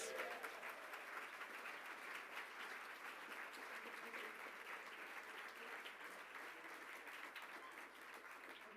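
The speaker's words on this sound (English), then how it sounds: "Give yourselves a round of applause." Sustained applause from a large audience, steady and loud throughout, fading slightly at the end.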